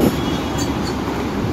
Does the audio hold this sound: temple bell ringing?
no